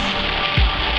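A tropical downpour on Samui, Thailand, pours down as a loud, dense, steady hiss of heavy rain, with a brief low thump partway through.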